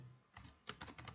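Computer keyboard keys pressed for a copy-and-paste shortcut, a few faint, quick plastic clicks in a short burst with a brief pause between presses.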